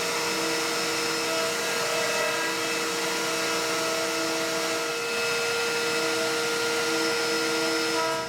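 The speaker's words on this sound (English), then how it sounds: "I'll go ahead and route the rest of it out" Steady, loud whine of a router cutting wood while recessing a pocket for a JessEM Mast-R-Lift II router lift plate, a continuous motor drone with cutting noise that runs throughout without a break, no voices.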